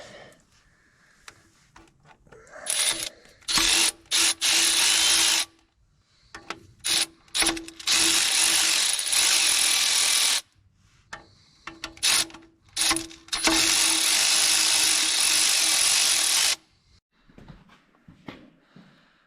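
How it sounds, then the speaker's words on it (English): Ratchet wrench working bolts on the belly pan underneath a John Deere 450B dozer: bursts of rapid, loud clicking from the ratchet pawl, close up, separated by short pauses and faint handling noises. "I'm laying underneath the dozer at the moment, and I'm going to see if I can start taking off the belly pan."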